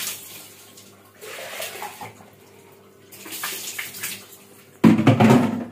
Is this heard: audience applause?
no